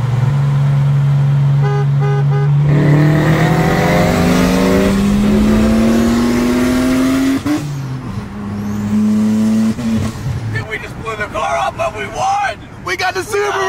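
Several cars in a street race rev and accelerate hard, including a Subaru, with rising engine tones sweeping up through the gears and a horn-like toot near the start. Loud and close, with people talking over the engines.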